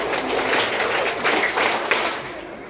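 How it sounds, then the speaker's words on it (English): A school assembly audience claps for a student, a steady, fairly loud burst of applause that tapers slightly toward the end. "Claps to Diksha."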